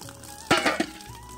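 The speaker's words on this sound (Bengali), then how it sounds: "আর এই যে এখানে ট্যাপে মা বাসন ধুয়ে ধুয়ে রাখছে।" Dishes being washed under a water tap produce a few quick clinks and clatters over a soft, continuous watery hiss.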